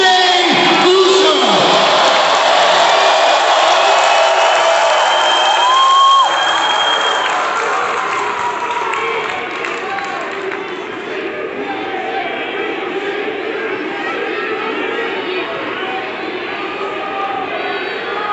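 A WWE Raw wrestling arena crowd cheers and roars loudly and continuously, with shouts and whoops rising above the dense wash of noise, which peaks early and then settles to a steady ovation.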